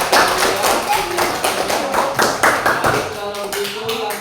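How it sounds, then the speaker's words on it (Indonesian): A short burst of scattered hand clapping over a low murmur of talk, fairly close and uneven in rhythm. "tepuk tangan untuk kelompok"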